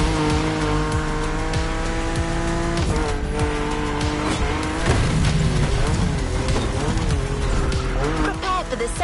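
A Mustang Boss 429 muscle car drives with a steady, strained engine note and loud, sustained tire squeal, rising and falling in pitch as the car slides, with possible voices underneath.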